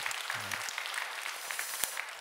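A church congregation at a dawn prayer service claps together, a soft, distant wash of applause sustained across the moment after a brief murmur of voice at the start.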